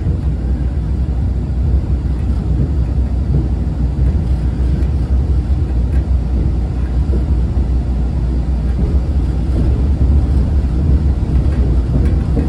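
A train on a Hungarian branch line runs steadily, with a loud, continuous rumble and rattle heard from inside the carriage throughout and no pauses.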